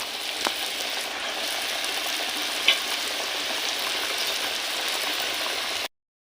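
Tehetri khurmi, a Chhattisgarh snack, frying in plenty of very hot oil, a steady even hiss of bubbling with one faint tap. It stays close and moderately quiet, then cuts off abruptly near the end.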